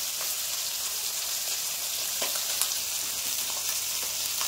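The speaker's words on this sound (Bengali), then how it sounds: "মাছগুলো এবার উল্টে দেব। এক সাইড ভাজা হয়ে গেছে।" Small river fish fry in oil with a constant close sizzle and occasional light pops, with no voices over it.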